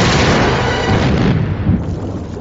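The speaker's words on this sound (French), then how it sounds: "Alors l'explosion du bateau est évidemment un énorme clin d'œil à la cinématique du début du jeu" A boat blows up in the film adaptation Far Cry Warrior. A loud, roaring blast fills the first half, then rumbles and fades away.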